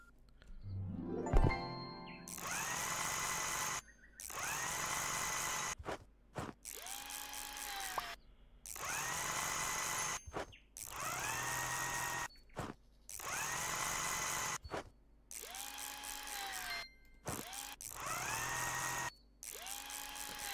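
Electric screw gun driving screws in the House Builder video game, a steady high whirring buzz repeated in about eight bursts of roughly two seconds each, separated by short pauses, with no talking.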